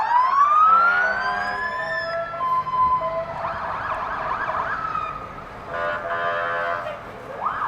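An ambulance siren wails and yelps close by at a St. Patrick's Day parade, rising and falling in loud repeated cycles, with engine noise underneath and no talking.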